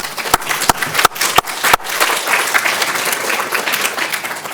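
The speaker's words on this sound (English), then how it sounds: "I suppose it'd be nice to give them a round of applause." An audience at a mitochondrial medicine conference gives the organisers a round of applause, opening with a few sharp isolated claps before swelling into steady, moderately loud clapping.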